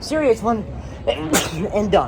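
A single sharp sneeze bursts out between stretches of close conversational speech from people queuing at an amusement park.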